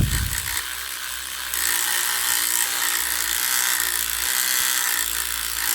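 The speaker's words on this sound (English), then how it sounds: "I just wanted to give her a go with the sonic scrubber" A sonic scrubber works on a WWE action figure during toy cleaning, giving a constant buzzing, whirring hum with a rattling edge that shifts slightly in pitch, close and fairly loud, with no talking.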